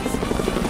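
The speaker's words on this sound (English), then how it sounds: "Helicopter, helicopter." A helicopter's rotor thumps in a rapid, steady rhythm with a constant engine drone, fairly loud and close, in the video game Rise of the Tomb Raider.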